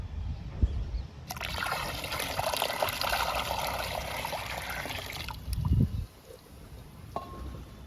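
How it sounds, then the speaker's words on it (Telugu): A stream of coffee-powder liquid mixed with rice water trickles and pours into water for a flower-plant fertiliser, a steady splashing flow lasting about four seconds before stopping, with soft handling knocks around it and no talk. "ఇప్పుడు ఈ లిక్విడ్ని వాటర్లో డైల్యూట్ చేద్దాము."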